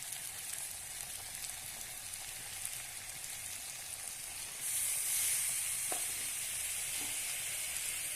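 Tomato, coriander leaves and green chillies dropped into jackfruit masala in a pan, a soft continuous sizzle that swells brighter and louder midway, with a couple of faint utensil clicks, no voices.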